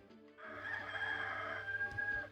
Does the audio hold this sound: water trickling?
no